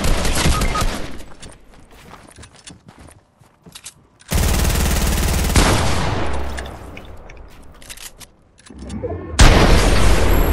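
Gunfire in a shooter video game: loud rapid bursts of automatic fire and booming shots, alternating with quieter stretches of footsteps and ambient noise.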